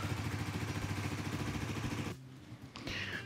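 A Suzuki GSX-S125 motorcycle engine idles with a steady, rapid low pulse while air is bled from the coolant system, then cuts off after about two seconds, leaving quiet shuffling.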